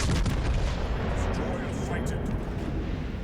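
Heavy warship guns fire in World of Warships Legends while playing as the Richelieu: a loud, booming salvo opens the clip and rumbles away into a long, low-frequency roar.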